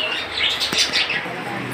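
Many small birds chirp and tweet in quick, overlapping bursts across a busy bird market at Mirpur 1, with a steady wash of crowd and market noise underneath.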